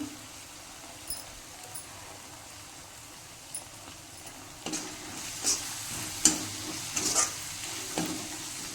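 Spring onion stir-fries in a pan for gobi fried rice, a soft low sizzle with intermittent scraping stir strokes that grow more frequent and louder in the second half, no voices.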